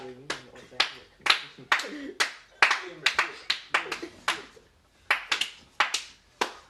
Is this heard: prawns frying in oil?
no